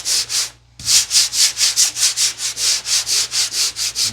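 Rhythmic back-and-forth sanding scratches into a 1953 Ford body panel, about fifteen even strokes close up after a brief pause, loud and steady with no voices.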